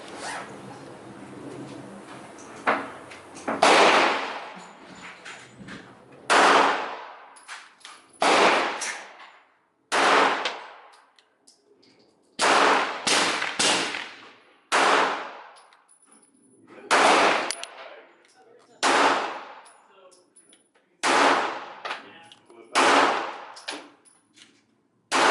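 An ETS magazine is emptied in repeated bursts of rapid gunfire, each volley sharp and loud, separated by short pauses, around a dozen bursts in all, with no talk.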